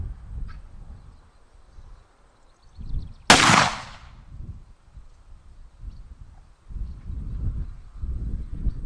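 A single sharp rifle shot fired at a paper target on an outdoor range, one loud crack standing out against quiet outdoor background rustle.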